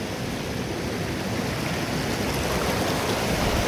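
Deep water rushing and flowing steadily, a loud continuous broadband wash with no break and no voices.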